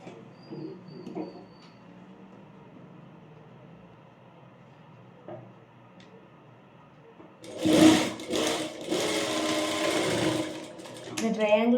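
A sewing machine stitching a jabla, a baby's garment, starts midway and runs loud and steady with a fast whirring buzz, after a quieter stretch of faint handling sounds.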